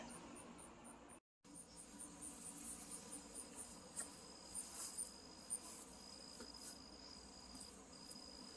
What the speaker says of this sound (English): But y'all can see the bees. They are having the time of their lives.